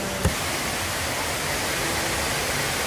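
Macagba waterfall roars as a steady, dense rush of falling water, loud and close with no break, apart from one faint click near the start.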